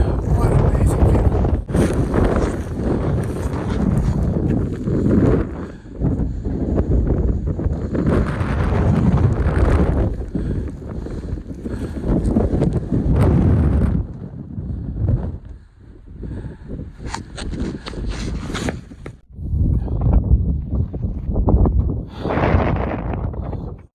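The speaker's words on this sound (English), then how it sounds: "Super windy." Strong wind roaring across the open mountain bald at Max Patch, North Carolina, buffeting the microphone in loud, continuous rumbling gusts, with a brief lull midway before the blasts return.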